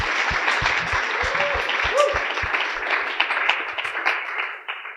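A conference audience at a finance-on-Ethereum talk applauds the speaker, sustained clapping filling the room for about five seconds, steady and fairly loud, then trailing off at the end.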